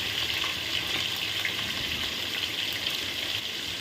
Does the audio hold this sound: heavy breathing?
no